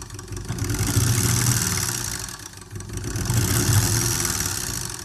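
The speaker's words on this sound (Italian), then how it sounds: "quando alziamo la corrente, il motore inizia a ruotare" A small electric motor, driven in an electromagnetic induction demonstration, spins with a steady low hum and buzzing overtones that swell, dip briefly, then rise again; no voices are present.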